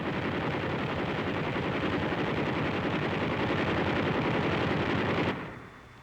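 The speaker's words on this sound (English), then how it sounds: "Students fire American 50 caliber anti-aircraft machine guns at Pershan Airfield" American .50 caliber anti-aircraft machine guns fired at an airfield during World War II, a loud dense continuous roar of rapid fire on old newsreel sound that cuts off abruptly near the end.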